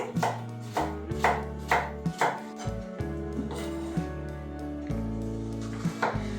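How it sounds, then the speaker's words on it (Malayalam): Knife chopping a large ripe banana into small pieces on a cutting board, a brisk series of sharp, evenly spaced taps close by with no talking. "ഈ ഏത്തപ്പഴത്തിനെയൊക്കെ നമുക്ക് ചെറിയ പീസായിട്ട് അരിഞ്ഞ് വേഗം വേഗം എടുക്കാവേ"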